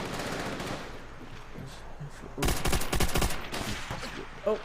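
Video game gunfire from Call of Duty in multiplayer bursts out in dense automatic volleys over a background game din, with a strong rattling stretch in the middle.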